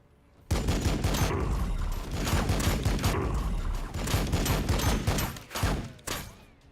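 Dense gunfire in Warhammer 40K Battlesector erupts suddenly and continues as a loud, rapid fusillade of overlapping shots for several seconds, then breaks into a few final bursts before cutting off.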